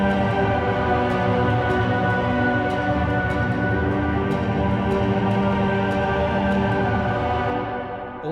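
The Witcher theme played with reverb send set far too high, a dense, washed-out band of instruments and sustained tones with a long hall-like tail, steady and loud throughout with no voices.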